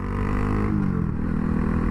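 A Honda Grom motorcycle fitted with a 402 Innovations carbon fiber exhaust rumbles nearby with a deep, steady idle that shifts pitch partway through as the revs change, heard alone without talk.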